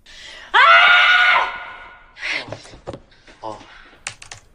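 A woman gives a long, loud scream of frustration, then brief vocal fragments and scattered clicks of typing on a computer keyboard follow in a quiet room.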